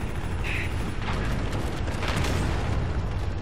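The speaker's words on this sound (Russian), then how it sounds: "Все взрывается" Continuous rumbling roar of explosions in Call of Duty: Infinite Warfare, loud and dense with low booming throughout and occasional bursts flaring above the din.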